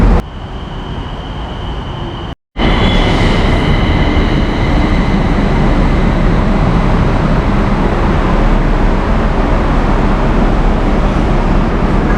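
Loud, continuous rumble of a Bangkok BTS Skytrain running, with a brief dropout early on and faint high whines over the steady roar.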